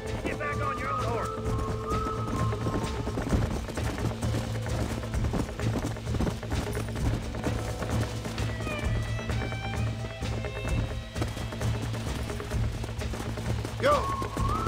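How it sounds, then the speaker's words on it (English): Horses galloping in the Western video game Red Dead Redemption: rhythmic clip-clop hoofbeats running continuously, mixed with game music, ambience and a brief whinny near the end. "Here, get back on your own horse."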